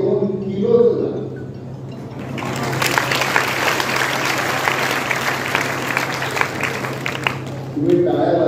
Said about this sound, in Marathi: तुम्ही टाळ्या वाजवल्या